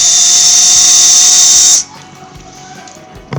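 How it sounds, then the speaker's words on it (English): Drill boring a large hole through a strobe light housing, a loud high-pitched steady whine for under two seconds that cuts off abruptly, leaving a quieter room hum. "we just had to drill a huge hole in them"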